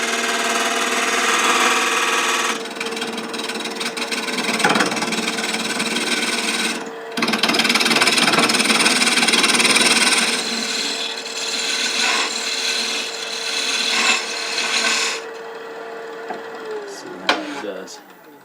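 Wood lathe turning the bottom of a rook chess piece box held on a small jam chuck made from spindle scrap, a close, continuous scraping and rubbing hum with shifting, gritty tool contact and a short break midway, ending with the lathe spinning down.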